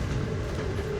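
Amtrak passenger train rolling along the rails, heard from inside a coach car as a steady, loud low rumble with a constant broadband wash and no distinct clicks standing out.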